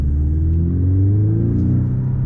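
A Porsche 911 engine accelerating on a tight slalom course, a loud, close, steady rumble with its pitch climbing smoothly as the revs rise over two seconds.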